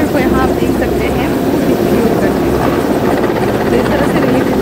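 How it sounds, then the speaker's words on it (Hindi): A helicopter flies over a flooded area during rescue work, its rotor thudding in a loud continuous roar that stays steady throughout, with a voice talking faintly underneath. "हेलीकॉप्टर को यहाँ आप देख सकते हैं"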